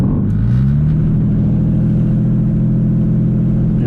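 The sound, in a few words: turbo diesel Mercedes engine revving during brake stand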